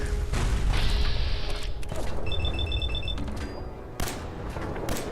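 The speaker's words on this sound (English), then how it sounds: "I love this pistol. So many shots because of its reduced action point cost." Pistol shots in the post-apocalyptic game Fallout 4, a string of sharp close cracks with mechanical clicks and a few electronic beeps, loud and without talk.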